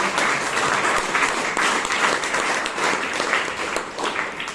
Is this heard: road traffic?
no